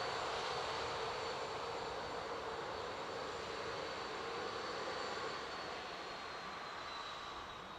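Airliner passing at Dublin Airport, a broad steady jet roar heard at a distance that slowly fades toward the end, with no talk over it.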